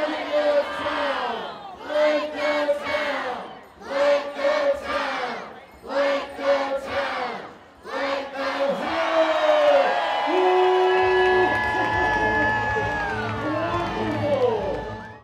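A crowd at a downtown Rochester holiday light show chants a countdown in rhythmic shouts, then breaks into loud sustained cheering and whooping.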